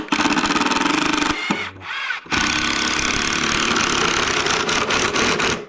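A power drill drives screws into a homemade wooden goat feeder trough on a farm, running loud and steady in long bursts with a brief pause and short restart near the middle.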